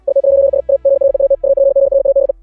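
Electronic Morse code beeps from the upgraded robot Metal Sonic in a Sonic fan series, a loud clean tone pulsing in short and long bursts with brief gaps, over a low synthetic drone.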